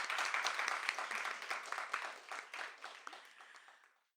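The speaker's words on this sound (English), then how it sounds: "I think that deserves a more robust round of applause." An audience at a bookstore author reading applauds in a dense, steady burst of clapping that gradually thins out and fades to silence after about four seconds.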